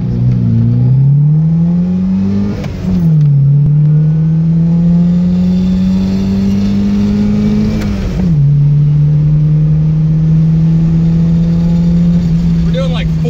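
A car engine accelerating from inside the cabin, a loud droning rev climbing in pitch, dropping at a gear shift, then climbing again, continuous and close.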